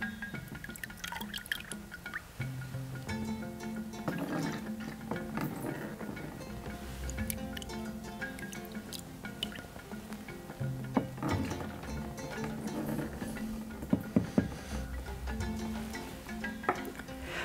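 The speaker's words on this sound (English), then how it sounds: "I'm going to fill it up with water" Water pouring into an empty 20 liter plastic jerry can, a continuous splashing and gurgling stream with irregular drips and knocks, steady at moderate level throughout.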